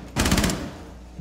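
A short rapid burst of automatic gunfire in Rainbow Six Siege, around half a dozen closely spaced loud shots, near and alone, fading into a quiet tail.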